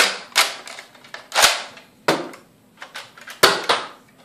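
Nerf Retaliator toy blaster firing foam darts indoors, sharp snapping shots with quick clacks in between, several spaced bursts, close and loud.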